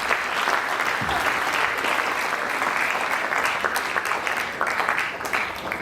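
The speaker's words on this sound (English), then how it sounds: "So please, can we give them a round of applause?" Sustained, steady clapping from an audience at a school anti-bullying assembly, a dense wash of applause that carries on evenly for several seconds without any speech.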